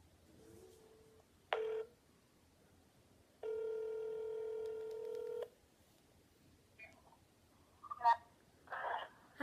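An iPhone 7 call: a few short touch-tone dialing beeps, then a steady ringback tone lasting about two seconds, followed by faint chirps and brief bursts of sound near the end.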